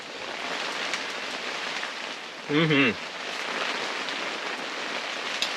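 Heavy rainstorm pounding a hot tent during camping, a close, continuous hiss and patter of dense drops on the fabric, with a short spoken voice partway through.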